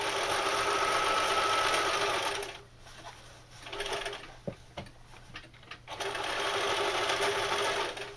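A sewing machine stitches a seam on a knife carrier, a loud steady close whir that runs for a couple of seconds, pauses with a few clicks and thumps, then resumes. No one speaks.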